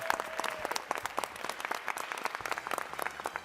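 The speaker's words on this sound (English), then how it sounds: "Give them a round of applause in absentia." An audience at an inauguration-week event at the University of Maryland breaks into a round of applause that stays fairly quiet and distant, with scattered individual claps and a low murmur underneath.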